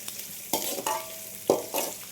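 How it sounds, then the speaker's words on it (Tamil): Onions frying and being stirred in a pan for a garlic kuzhambu, with a steady close sizzle broken by four or five louder scraping stirs, no voices. "வெங்காயம் நல்லா வதங்கட்டும்"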